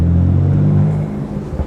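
BMW M2 exhaust with a brief, deep rumbling blip close by, the low drone fading over a second or so with no voices.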